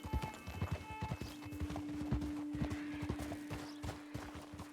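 Horse hooves clip-clopping in the video game Red Dead Redemption, a steady, close rhythm of hoofbeats with a brief whinny, set against a low ambient hum and faint game sounds.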